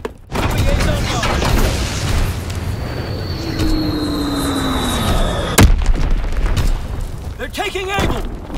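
Azon guided bomb dropping and detonating in the Call of Duty WWII video game, a falling whistle followed by a sharp explosive blast around midway, set amid continuous battle noise and radio-style voice callouts.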